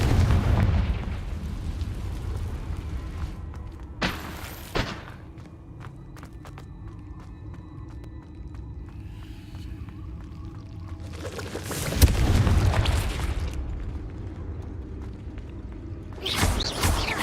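Confringo blasting spell in a video game, heard as several loud, deep booming explosions with rumbling tails, spaced a few seconds apart over quieter background noise.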